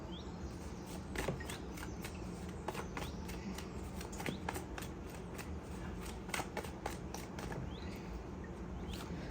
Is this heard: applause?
no